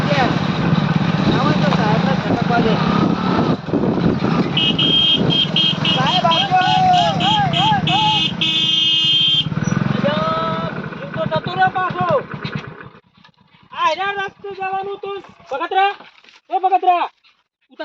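A motorcycle with a faulty choke runs at a steady idle under loud overlapping talk for about twelve seconds, then the engine stops, leaving only voices.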